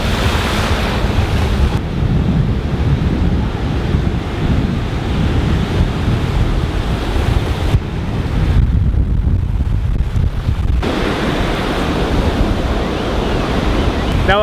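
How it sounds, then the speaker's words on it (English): Ocean surf on a beach at Florianópolis, Brazil rolls in continuously, a broad roaring wash of breaking waves with wind buffeting the microphone throughout. "that is the waves that are here"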